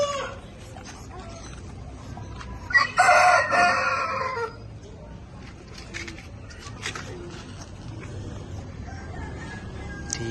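A rooster in a backyard bird and poultry pen lets out a single loud crow of about two seconds, set against a steady low background hum and faint scattered clucks.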